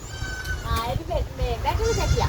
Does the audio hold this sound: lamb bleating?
yes